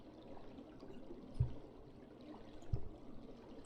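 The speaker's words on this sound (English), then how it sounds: "I hope you're enjoying the water ambience noise." Soft, steady water ambience added behind a game stream, a continuous trickling wash at low level with a couple of faint thumps, no talk.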